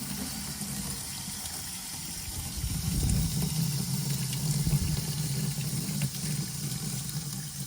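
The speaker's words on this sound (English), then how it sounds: "I'm just going to hit it with some hot water here" Hot water runs steadily from a sink tap over a Commodore VIC-20 circuit board, a continuous rushing hiss that swells louder midway as the board is moved under the stream, with no speech.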